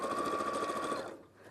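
A sewing machine stitches straight across fabric seams, running in a fast, steady whirring hum close by for about a second before stopping.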